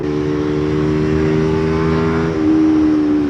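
A Rieju RS3 125cc sport motorcycle engine holds a loud, steady high-revving buzz with strong sustained harmonics, its pitch dropping slightly partway through, with no talking.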